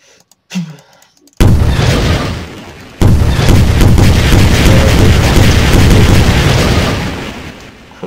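Rockets launching and exploding in Garry's Mod with a nuclear warfare mod: a sharp pop and thump, then a loud blast that swells into a long, continuous roaring rumble, renewed by a second hit midway.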